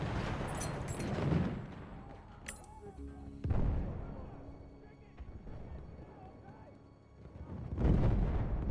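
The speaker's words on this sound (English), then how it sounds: "grenade" A grenade blast in the World War I shooter Battlefield 1 lands as a sharp booming burst amid other distant explosions and gunfire, while a player talks over the chaotic battle noise.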